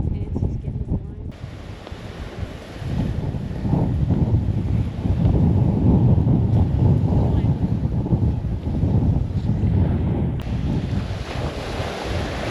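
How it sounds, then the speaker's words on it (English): Strong wind buffets the microphone at a beach near Esperance, a loud continuous rumble with surf washing in behind it, and faint voices come and go underneath. "It's just the wind when you get out."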